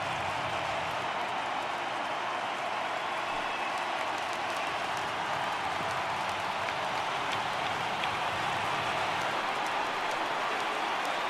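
Baseball stadium crowd in MLB The Show 18, Detroit at Boston, during a full-count at-bat: a constant dense roar and hiss of cheering and clapping that stays level and continuous throughout, with no clear voices.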